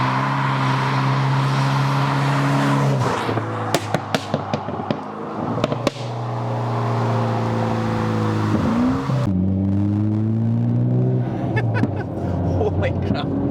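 A Mitsubishi Evo X engine idling and revving through its exhaust, with a burst of sharp pops and crackles on the overrun between revs, loud and close, with faint voices in the background.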